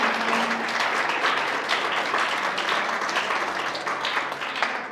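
Audience applause for a testimony talk to young students in Puebla, a full, steady round of clapping that tapers slightly toward the end.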